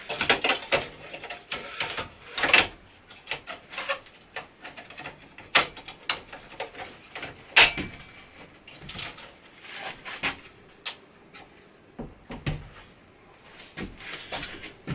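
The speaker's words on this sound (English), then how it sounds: "So now I'll reinstall this fan." Computer server fan being refitted, giving a run of close clicks, snaps and plastic knocks in uneven bursts, with no one talking.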